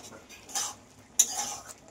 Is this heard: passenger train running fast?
no